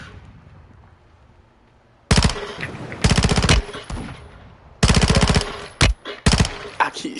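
Heavy automatic gunfire from a video game erupts in several loud, sharp bursts after a quiet opening, each burst a rapid rattle of shots separated by short pauses, close and dominant with no speech over it.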